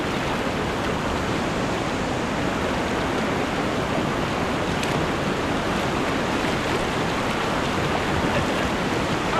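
Whitewater rapids on the Middle Ocoee River roar steadily and close, a broad unbroken rush of churning water with no talk, heard from a kayak in a Class III run.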